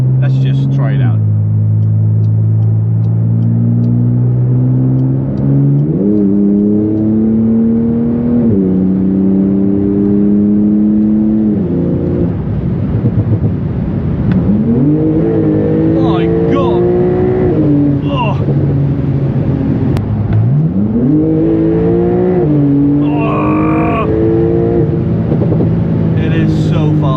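A Porsche accelerates hard on a busy Autobahn stretch, its engine loud and close, rising through gears with audible shifts and climbing revs.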